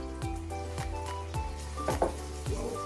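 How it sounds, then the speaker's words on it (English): Naga chili pickle with white vinegar stirred in a pan over low heat, with soft sizzling and about five rhythmic scraping strokes of a utensil against the pan, quiet and close. "Give it another stir."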